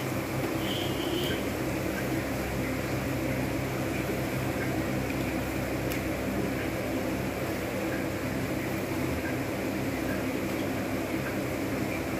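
Sugar syrup for bundia comes to a boil in a pan, a steady, even bubbling hiss that holds at the same moderate level throughout with no talking.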